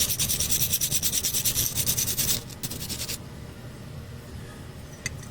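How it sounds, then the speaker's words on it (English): A wire brush scrubs paint off a 1/64 die-cast model car in quick rhythmic back-and-forth strokes, close and bright, then gives way to softer rubbing and quiet handling. "rub this back end through this pointed area on the back of the wire brush"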